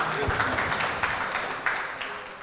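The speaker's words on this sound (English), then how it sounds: "Clap, Marilyn, clap, Marilyn, clap, Marilyn." Audience applause at a community discussion event, a dense patter of many hands clapping at close to middling distance, with voices mixed in.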